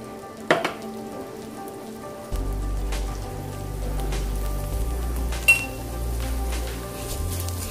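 Two cups of rice fry in hot oil in a hot pot, giving a steady low sizzle and crackle, with a few clinks of a utensil against the pot.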